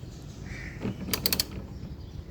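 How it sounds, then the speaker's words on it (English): A 10mm socket on a ratchet clicks in a brief quick burst of four or five sharp ticks while bolts come out of the engine splash shield under a Kia Sportage; close, short and without talk. "Use a 10mm socket to remove the bolts."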